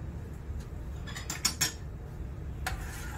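Sugar syrup for kunafa, with lemon juice added, gets stirred in a pot: a spoon clinks and scrapes against metal in a few quick taps, close and fairly quiet, with no talking.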